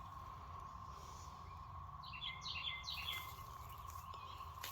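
Birds chirp outdoors in a brushy area being cleared of briars, with a quick cluster of bright, repeated tweets in the middle over a steady background hum and insect drone.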